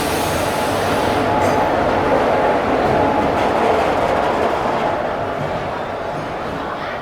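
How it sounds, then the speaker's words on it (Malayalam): A Coimbatore–Shoranur passenger train rumbles steadily into a station platform in light drizzle, a continuous loud low roar with faint rattling of carriages throughout. "കോയമ്പത്തൂർ ഷൊർണൂർ പാസഞ്ചർ ഒന്നാമത്തെ പ്ലാറ്റ്ഫോമിലേക്ക് വന്നുകൊണ്ടിരിക്കുക കേട്ടോ"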